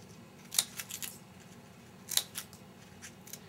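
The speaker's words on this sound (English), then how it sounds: "You can go ahead and cut the fringes and make sure you go half of the paper, of the width of the paper." Scissors cut fringes into a sheet of paper, making quiet, crisp snips that come in two small clusters in a quiet room with no talking.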